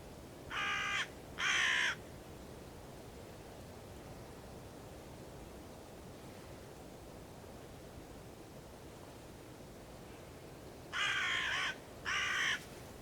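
Hooded crow cawing, two short harsh calls near the start and two more near the end, fairly close, over a steady background hiss of wind or distant water.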